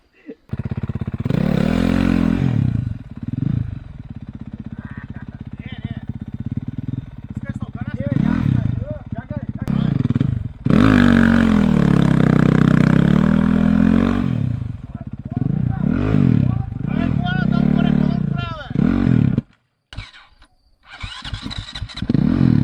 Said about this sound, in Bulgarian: Чай, че върне мотора.